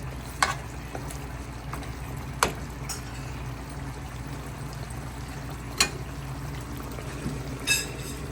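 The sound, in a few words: adding water to food cooking in a pan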